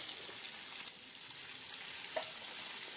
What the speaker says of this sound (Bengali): আমি তিনটে আলু ছোট ছোট করে কেটে রেখেছিলাম সেই আলু তিনটে ভেজে নিচ্ছি